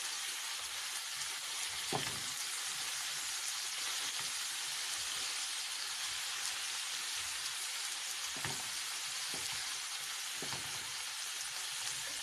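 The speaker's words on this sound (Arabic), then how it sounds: "هنقلب فيها كده لحد ما الخضار ايه يدبل" Vegetables for a shakshuka with minced meat fry in a pan, a steady close sizzle running throughout with a few soft scrapes and knocks of stirring scattered across it, no voices.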